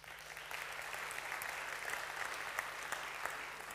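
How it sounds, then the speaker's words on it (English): Audience applause for a speaker at the opening session of a knowledge conference, steady and continuous throughout at moderate distance, a dense even patter of many hands with no voices over it. "A warm round of applause for him."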